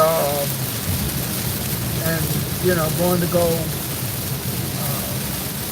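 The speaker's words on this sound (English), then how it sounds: "I'm just driving in the rain" Steady rain drumming on a car while driving, a dense wash of noise throughout with someone talking over it.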